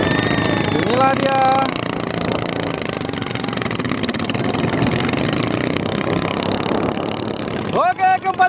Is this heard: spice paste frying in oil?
no